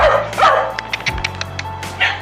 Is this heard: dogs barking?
yes